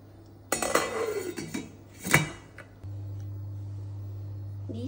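A metal lid set onto a cooking pot of chicken and chickpeas in a home kitchen, giving a clattering clink and scrape early on, then a second sharp metallic clank, followed by a steady low hum.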